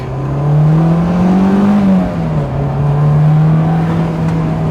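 Honda S2000, an imported right-hand-drive JDM car, accelerating in first gear with the engine climbing into VTEC; a loud, steady, close engine note rises, dips briefly as the revs shift, then holds strong, with no talk.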